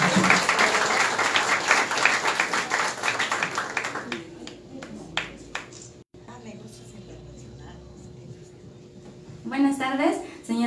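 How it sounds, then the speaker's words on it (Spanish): Audience applause at an awards ceremony in Chancay, a burst of many hands clapping for about four seconds, then fading into scattered claps beneath a voice speaking. "Un aplauso."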